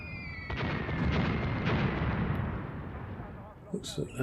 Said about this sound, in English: I think that's my artillery zeroing in there.